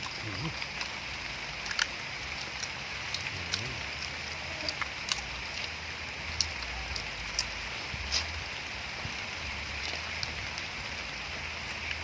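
Rain falls outdoors during a meal of grilled prawns and spicy papaya salad with crab and fermented fish, a constant soft hiss scattered with sharp drop taps, heard under people talking.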